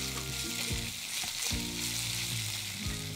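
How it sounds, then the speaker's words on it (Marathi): A ginger and green chili thecha fries in ghee, hissing steadily and close up, while a spatula scrapes and stirs the pan in a few distinct strokes, with no talking. "हा ठेचा छान परतून घ्यायचा तुपामध्ये. 1 मिनिटभर तरी परतायचा."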